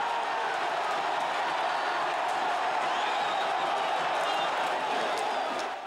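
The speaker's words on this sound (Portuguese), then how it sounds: "A torcida do Dragão vai ao delírio" A dense football crowd roars steadily after a Confiança goal in the 2002 Sergipe championship, a wide sustained wall of cheering with scattered whistles and whoops, loud and unbroken from start to finish.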